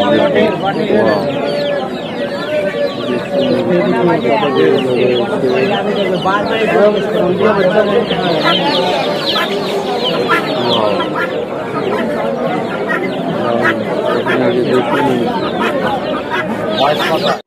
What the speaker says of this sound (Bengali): এখানে বিভিন্ন রকমের মুরগি,